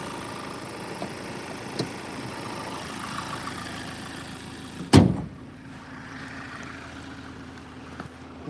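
A Ford Focus 2.0 TDCi diesel engine idles steadily with a low rumble, then a sharp thump as the hood shuts, after which a quieter hum continues.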